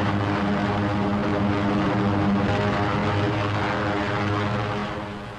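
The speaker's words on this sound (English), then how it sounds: "giant flying fortresses that drop their tons of high explosives on pinpoint targets" Heavy propeller drone of B-17 Flying Fortress bombers flying overhead, a loud continuous engine roar with steady low harmonic tones that fades slightly at the end.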